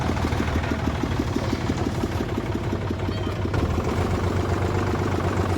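A vehicle engine runs steadily and loudly while riding through a village toward a field, a continuous low rumbling drone with a fast pulsing throb and no pauses.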